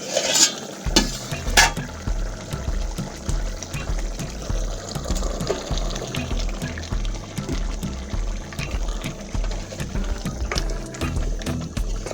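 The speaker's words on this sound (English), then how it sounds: "My potatoes are halfly cooked, so I'm going to add my pumpkins." Pumpkin pieces tipped into a pot of partly cooked potatoes, with a few clattering drops at the start, then repeated soft stirring scrapes and faint simmering bubbling at a low level.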